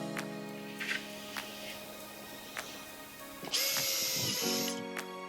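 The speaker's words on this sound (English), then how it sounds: "you're going to put 4 countersink holes here" A power drill cuts countersink holes in a DIY kitchen cabinet, whirring loudly in a single burst of about a second after a stretch of faint clicks and ticks.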